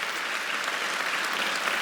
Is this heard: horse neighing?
no